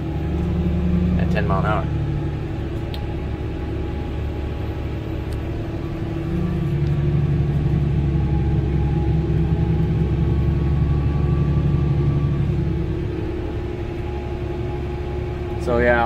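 A John Deere 1050 tractor engine labors steadily while protilling a field at about ten miles an hour, a constant low rumbling drone under occasional speech.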